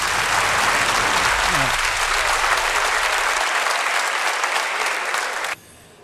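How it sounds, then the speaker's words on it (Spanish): A studio audience at a Peruvian comedy talk show breaks into loud, sustained applause with a brief voice early on, and the clapping cuts off sharply near the end, leaving quiet room sound. "Fuerte aplauso para Nox."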